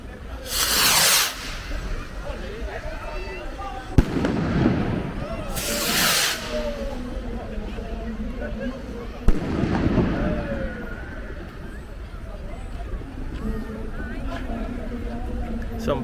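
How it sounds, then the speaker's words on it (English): Big fireworks go off over Soho Road in Handsworth, Birmingham: hissing, whistling launches and a couple of sharp booms at moderate distance, with people talking and cheering. "Some big fireworks, these, you know."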